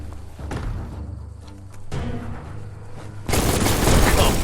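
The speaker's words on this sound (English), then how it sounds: "Shoot it and watch it blow." Explosions and gunfire in the video game Biomutant as a target is blasted at an outpost gate: several thumping shots and booms, ending in a loud, dense burst of explosive noise.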